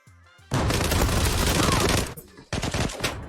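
Gunfire in the online shooter game Zula comes as dense, loud rapid bursts of automatic shots, a long volley followed by a short pause and a second burst.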